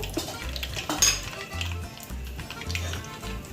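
Mustard seeds dropped into hot oil for tempering in a paneer tomato curry, crackling and sizzling amid clinks of a metal pan and utensil, with low rhythmic thumps beneath and no one speaking.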